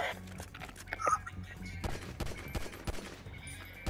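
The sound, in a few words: gunfire from guns in video game Grand Theft Auto V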